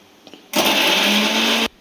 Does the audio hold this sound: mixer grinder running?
yes